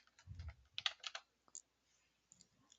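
Typing on a computer keyboard makes a quick run of faint, close key clicks, irregular and brief, with a few scattered taps after a pause.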